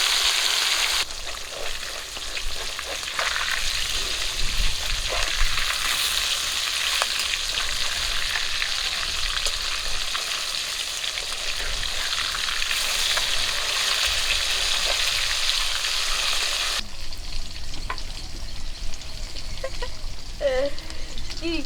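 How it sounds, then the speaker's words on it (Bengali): Pieces of fish from a large grass carp fry in hot oil in a pan in a village kitchen, a loud, steady sizzle with crackling spits that runs throughout, shifting in tone near the end. "এখন গাদার মাছগুলো ভেজে নেব"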